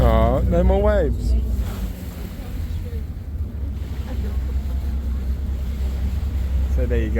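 A boat travels through choppy water near Venice, with a constant roar of wind and waves washing against the hull, heard up close, while a voice speaks briefly at the start.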